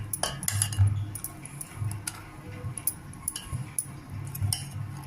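Batter for a quick roti made without soaked, ground lentils, stirred after buttermilk is added, with quick clinks and scrapes of a spoon against a bowl, close and rhythmic, and no talking.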